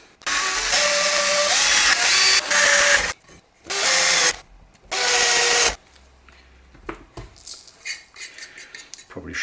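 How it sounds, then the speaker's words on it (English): A power drill whirs in several bursts of a few seconds each, separated by pauses, as it bores holes in a guitar attenuator enclosure; the pitch shifts as it loads, followed by small handling clatter. "Okay, got our drill bit attached."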